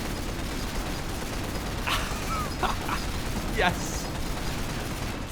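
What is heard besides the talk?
mortar fire in video game Men of War Assault Squad 2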